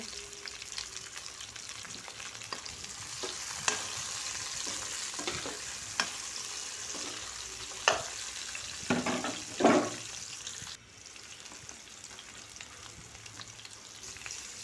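Potatoes frying in oil in a pan, a continuous close sizzle with periodic scrapes and knocks of a spatula stirring, steady throughout with a sharper clatter near the end.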